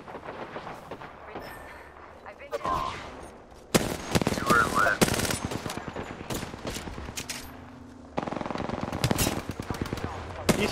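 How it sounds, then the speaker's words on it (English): Rapid automatic gunfire in an online multiplayer shooter game, bursts of close, loud shots rattling in dense strings, pausing and resuming, with brief voice chatter between volleys. "I'm shooting a guy here"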